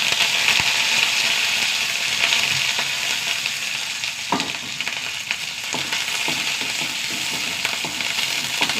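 Shallots and curry leaves fry in coconut oil with a dense, continuous sizzle and crackle, punctuated by occasional stirring clinks and pops, close and loud throughout.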